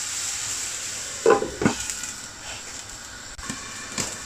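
Onions softening in a hot pan with a faint, steady sizzle, broken by a few soft scraping stirs and knocks of a utensil against the pan.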